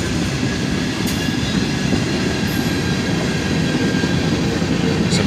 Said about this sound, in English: A southbound manifest train, led by a pair of ES44 ACHs.